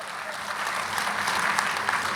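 An audience at a Hindi comedy poetry show applauds in a sustained, even burst of many hands clapping together, heard from a distance at moderate volume and free of speech.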